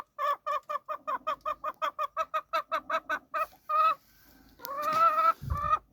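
Hens on a small farm flock of twelve give a long run of rhythmic, evenly spaced clucks, loud and close, then a few looser squawks and calls near the end with no talking.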